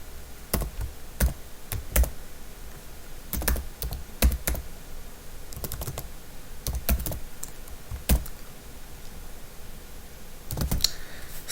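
Clattering keystrokes on a computer keyboard, typed in short irregular bursts with pauses between, close and fairly loud with no voices.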